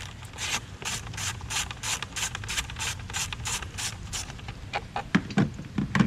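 Ratchet clicking steadily as a 10mm bolt is loosened on the air box of a Chrysler Pacifica, an even run of close, moderately faint clicks followed by a few louder scraping ticks at the end.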